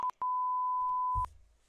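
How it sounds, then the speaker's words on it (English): A beep sound effect: one short tone, then a longer steady electronic beep of about a second, loud and clean against silence. "I better get these beeps handy."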